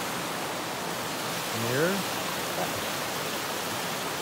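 Waterfalls beside a wet hiking trail at Arch Rock give a steady, even rush of falling water that fills the whole scene. A voice briefly speaks over it.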